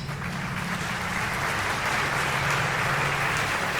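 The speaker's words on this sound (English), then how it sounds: "Where the hell's that clapping coming from?" Applause in the Fallout 76 video game, a dense, continuous crowd clapping that stays loud and even throughout, with no speech.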